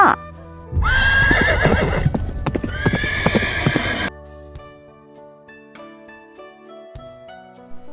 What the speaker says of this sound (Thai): เขากำลังขี่ม้า